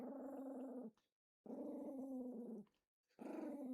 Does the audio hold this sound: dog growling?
yes